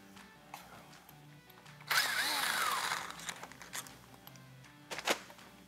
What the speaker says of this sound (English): Now we can pull our bolt out of the idler sprocket.